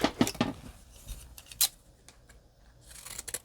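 Scissors snip through paper in a cluster of sharp, close strokes at the start, then a few scattered cuts and rustles, with another burst of snipping near the end; no voices.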